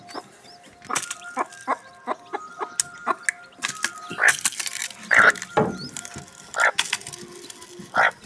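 Native chicks in a tomato box inside a goat shed cluck and peep repeatedly while pecking at feed, with sharp tapping pecks scattered throughout, close by and fairly loud.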